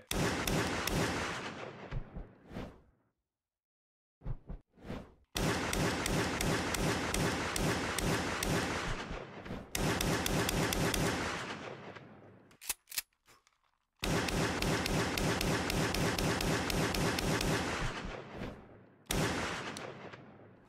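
Loud gunfire rings out during a police shooting simulation at targets. Long dense volleys of rapid shots are split by short silences and a few single bursts.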